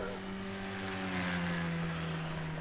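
A race car engine in Project Cars 2 at the Sugo circuit holds a steady, loud, continuous drone with a slowly shifting pitch, heard alone with no talk.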